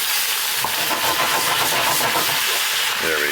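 Steak pieces are stirred in a hot pan, giving a loud, continuous hissing sizzle close up, with faint scraping under the dense spray of noise.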